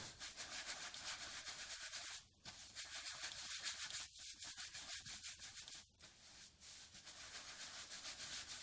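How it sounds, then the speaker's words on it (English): A paintbrush is rubbed lightly against cardboard to work paint into its bristles. The scratchy, papery rubbing is soft and steady, with a few brief pauses, and no voices are heard. "just very lightly rub the paint into the brush with the cardboard"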